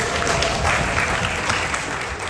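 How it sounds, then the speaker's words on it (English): An audience at a Country Bear Jamboree event claps and stomps together, a dense, steady burst of applause that fills the room without pause. "How about a show of clapping and stomping?"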